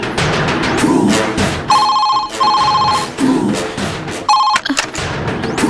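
Ringback tones of an outgoing phone call in a Tamil TV serial repeat as several short bursts separated by gaps, sounding close and fairly loud against a faint background.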